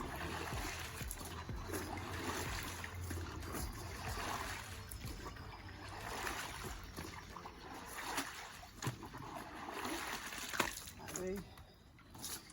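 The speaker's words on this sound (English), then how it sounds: "I'll just get a little whirlpool going." Water in a 12 ft Intex frame pool gets stirred into a whirlpool, giving continuous swishing and splashing with occasional sharper sloshes, close and moderately loud.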